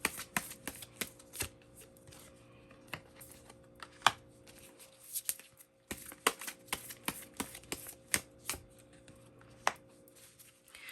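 Tarot cards shuffled and drawn close up in a quiet room, a run of irregular sharp flicks and taps with short pauses between them and a soft steady hum beneath.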